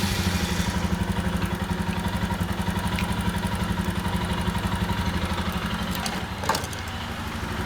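An adventure motorcycle engine with a flat battery idles close by in a steady rapid chugging, with a brief clunk near the end.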